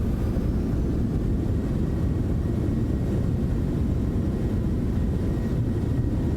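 A Citation X business jet roars in Microsoft Flight Simulator 2024 as its thrust reversers deploy after landing, a steady, loud low-pitched rumble and rush that holds evenly for over six seconds with no talk.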